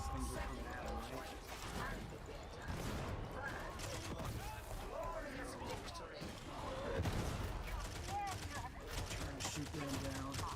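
Rapid bursts of video game gunfire crackle through a busy, dense mix, shots overlapping in quick volleys with clicking mechanisms and a steady low rumble beneath a player's voice.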